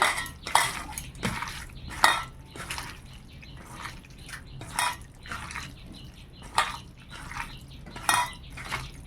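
Oil is poured over prawns in a bowl being mixed by hand, heard as close wet squelching and dripping with scattered clinks of the bowl, repeating in uneven bursts.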